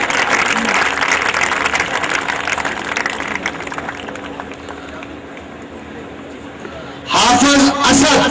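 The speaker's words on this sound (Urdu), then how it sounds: "تالیاں." Audience applause at a school prize distribution ceremony, a steady wash of clapping that fades over several seconds, then a sudden loud burst near the end.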